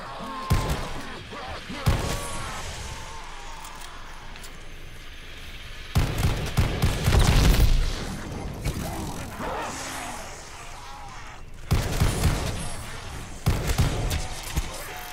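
Bursts of rapid gunfire in Call of Duty: Vanguard Zombies erupt in several loud volleys, separated by quieter stretches of mechanical game noise and thuds.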